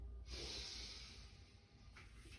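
A slow, deep inhalation during a breathing exercise class, a close, airy hiss that swells over about a second and a half, alone and quiet, followed by the start of another breath.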